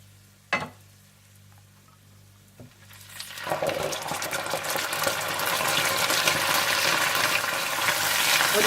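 Yogurt poured into hot frying onions in a pot sets off a loud, building sizzle that swells and then holds steady, after a couple of light clinks at the start.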